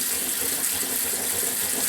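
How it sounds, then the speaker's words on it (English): Cold water splashing and gushing over cooked macaroni in a sink, a steady continuous rush throughout with no voices. "If you want to slow it so that it no longer continues to cook, splash it with cold water."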